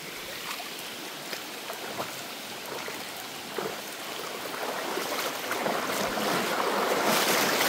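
Steady rushing floodwater from Typhoon Kristine with broad surf-like noise that swells louder toward the end, no voices present.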